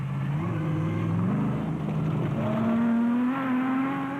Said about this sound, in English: The battered-looking Toyota showing the scars of battle sped by